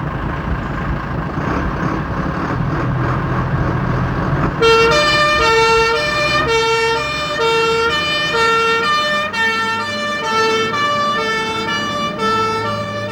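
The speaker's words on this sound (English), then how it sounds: "the most commonly used fire and rescue vehicle, the pump engine" A fire and rescue pump engine, the service's basic all-round vehicle, starts with a rumbling engine, then a loud two-tone siren wails in a steady repeating pattern close by over the motor.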